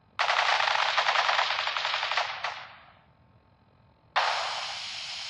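Sustained automatic gunfire from a squad of men opening fire in Fallout 4, a loud dense burst lasting a couple of seconds that tapers off, followed after a short gap by another sharp loud burst.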